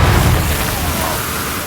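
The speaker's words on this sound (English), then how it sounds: "After an explosion, a bottomless pit appears before their eyes" Bombs detonate to blast open a section of a mine, producing a loud, deep, close boom that rolls out into a sustained rumbling roar.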